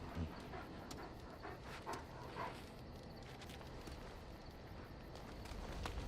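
A dog pants steadily and close by in Dragon Age: Origins, with soft footstep-like thuds and light clicks over a continuous low rumble.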